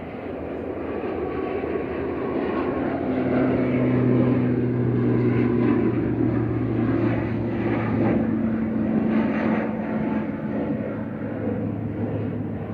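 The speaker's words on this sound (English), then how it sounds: "CMJJ departing back to Belfast with flight 3619." A passenger airliner departs Manchester Airport for Belfast, its distant jet roar swelling into a broad rumble with a steady droning tone, then holding, with no voices over it.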